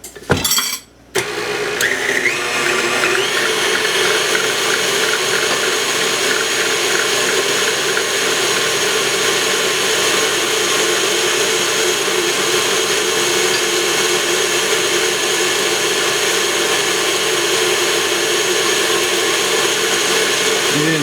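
Electric mixer beating strawberry bundt cake batter just after eggs are added, a steady loud mechanical whir with a rattling, ratchet-like edge running continuously after a brief pause at the start.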